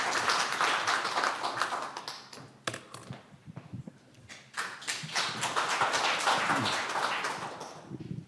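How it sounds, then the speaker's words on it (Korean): At the founding assembly of a former-lawmakers' association, the audience claps to welcome a speaker. The clapping is fairly quiet and uneven, swelling, dipping briefly near the middle, then rising again. "더욱더 큰 박수로 맞이해 주시기 바랍니다"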